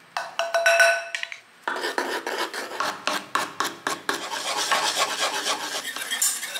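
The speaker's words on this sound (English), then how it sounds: "With the butter melted and still warm, I slowly fold in spoonfuls of egg white, beating vigorously after each addition." Egg white being whisked into warm melted butter in a saucepan for no-oven oat nougat bars: quick, rhythmic scraping and clinking strokes, close and fairly loud, after a brief opening burst of rasping.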